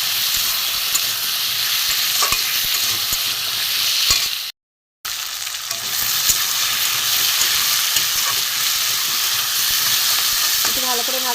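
Chopped taro and potatoes sizzle loudly in a pan with onion and tomato, a dense continuous crackle broken once by a half-second dropout, with a few scraping stirs and clinks near the end.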